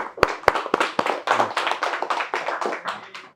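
A class at an inverter AC PCB repair institute claps for its students, opening with a few loud separate claps before building into a quick, uneven patter of many hands close by.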